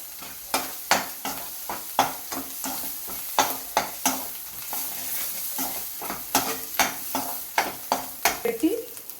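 Bottle gourd pickle cooks on a low flame, with repeated rhythmic stirring scrapes and taps against the pan over a soft, continuous sizzle.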